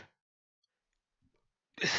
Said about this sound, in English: a little bit of a sniffle, there. Stifled sneeze.